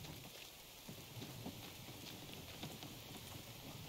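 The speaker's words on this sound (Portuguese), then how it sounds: "Baixo de chuva, é?" Faint, steady rain patters down in the survival video game The Infected, a soft continuous hiss with scattered droplet ticks and no talk.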